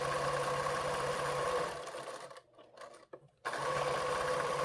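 A sewing machine stitches a quilt seam for a star scrap quilt, running steadily and loudly up close, then stopping briefly for a quiet pause before resuming at full speed.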